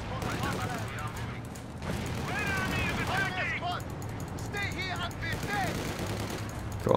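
Company of Heroes 2 battle sounds: continuous rattling gunfire and distant bursts under a busy mix of game voices and whistling effects, with steady background rumble throughout.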